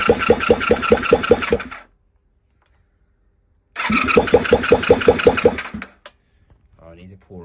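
A Honda VFR400 NC30 motorcycle engine cranks in two rapid rhythmic bursts of starter chugging, loud and close, separated by silence, with a brief voice at the end.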